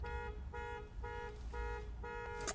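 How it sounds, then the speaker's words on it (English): Car alarm sounding outdoors at a distance: a steady repeating electronic tone pulsing on and off about twice a second, faint beneath low background rumble. "There's a car alarm going off."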